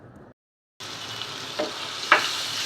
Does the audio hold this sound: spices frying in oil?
yes